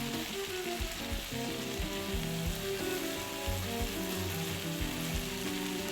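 Potatoes frying in butter for a breakfast potato hash, a close, continuous crackling sizzle with soft stirring taps, steady and moderately loud with no talk.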